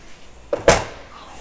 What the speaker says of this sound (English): This is just going to be a slider here on the door for the screen.